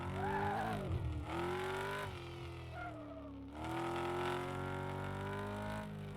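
Engine of a Luxor Streamliner MK3 in Car Mechanic Simulator 2026, droning steadily on a short test drive. The tone dips and rises with throttle changes, fairly close and alone.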